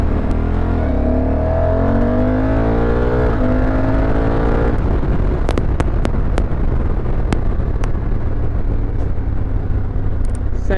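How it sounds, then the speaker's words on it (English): A 2024 Honda Africa Twin motorcycle revs through its exhaust, with rising and falling engine sweeps followed by a run of sharp popping crackles, heard up close and loud with no speech. "such an amazing sound that comes from this exhaust."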